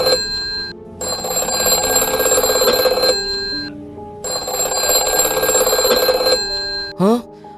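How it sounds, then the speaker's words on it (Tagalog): A telephone rings in a Roblox game, two long loud electronic ringing bursts with a pause between, followed by a brief rising chirp. "Bakit parang may nag-ring?"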